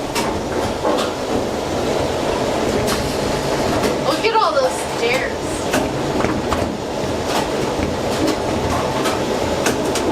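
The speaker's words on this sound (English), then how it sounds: "We are currently on the tram going up to the top of the Gateway Arch here in St. Louis" The tram rises inside the Gateway Arch in St. Louis, a steady rattling rail rumble with metallic clacks. People talk over it for the whole ride up.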